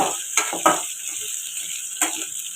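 Food fries in a pan until reddish, making a light sizzle under several crisp spoon scrapes and clinks against the metal, each short and close.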